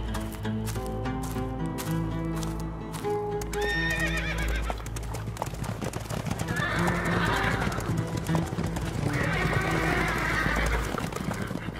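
Horses neighing with hooves clip-clopping, several whinnies rising over steady rhythmic hoofbeats and a low rumbling background, fairly close and continuous.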